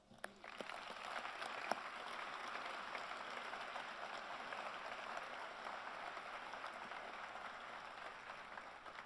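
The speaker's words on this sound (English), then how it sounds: "a warm round of applause if you join me" A steady round of audience applause for NASA staff at an Artemis II event, heard faint and distant as a continuous wash of clapping that holds evenly for about nine seconds.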